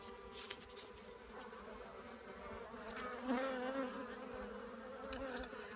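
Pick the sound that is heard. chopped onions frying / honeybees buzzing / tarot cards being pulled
honeybees buzzing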